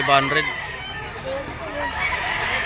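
Gamefowl roosters crow at a busy pet market, one bird loud and close with a full crowing call plus clucks, while other birds and a murmur of voices carry on behind.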